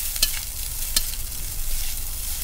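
Fried rice with Vietnamese pork sausage and grilled pork neck stir-fried in a pan: a continuous loud sizzle with a couple of sharp scraping strokes of the spatula.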